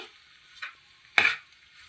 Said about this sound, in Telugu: ఇప్పుడు కలిపేసుకుందామండి.